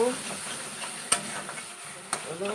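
Egg dhoka cooking in a pan on a home stove, with water just added, giving a steady sizzle and hiss and a couple of sharp clinks from stirring.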